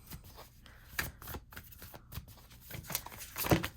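A deck of oracle cards is shuffled close up in quick bursts of crisp riffling and flicking, with brief pauses between, fairly quiet overall.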